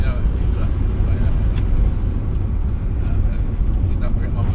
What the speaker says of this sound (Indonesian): Mobil itu saya pakai ini mobil tahun 98 ya.